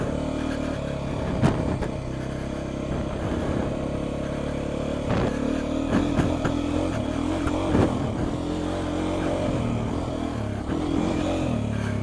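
A Beta motorcycle engine revving while riding with a touchy throttle, a continuous close mid-pitched drone that rises and dips with throttle blips, with no talk.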